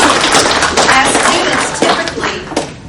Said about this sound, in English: So can we clap for each other?